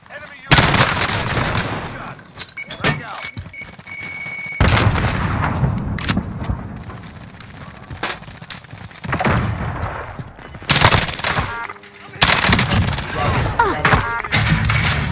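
Rapid bursts of gunfire in a shooter video game, loud and close, with long automatic volleys broken by short pauses and scattered single shots.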